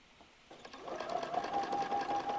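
A sewing machine stitches quilt fabric, starting up and settling into a steady, close mechanical whir with a rapid needle rhythm and no talking.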